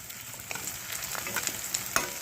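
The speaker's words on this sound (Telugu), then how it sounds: "బాగా ఎర్రగా ఫ్రై అయిపోయండి." Masala-coated raw banana slices frying in oil, a soft continuous sizzle with faint crackles and a few small sharp pops, heard alone at low volume.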